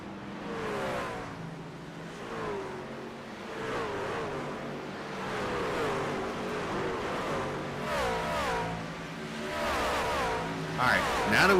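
Stock cars racing in the Chrysler, Jeep, Dodge, Ram truck series at Bristol, engines droning and rising in pitch as they pass, with a steady roar under continuous talk.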